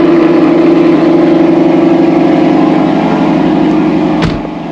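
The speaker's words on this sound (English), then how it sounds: "Love the cold start." A car engine idles steadily after a cold start after sitting unused for about three days, a loud, even rumble with a sharp click near the end as the level drops slightly.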